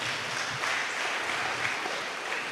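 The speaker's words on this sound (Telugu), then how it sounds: "గట్టిగా చప్పట్లు కొట్టి దేవుని స్తుతిద్దామా?" Worshippers in a church clap loudly in praise, a dense, even stream of many hands clapping together that stays steady throughout without pause.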